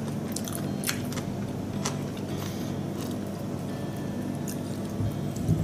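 Eating a Japanese fish bone dashi soup, with close, soft chewing and a few crisp bites over a low steady background, with no talking.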